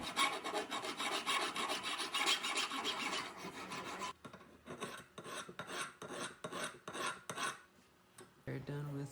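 A file rasps across a homemade knife blade to cut a bevel, a dense continuous scraping at first, then separate rhythmic back-and-forth strokes with short pauses, close and loud with no talk.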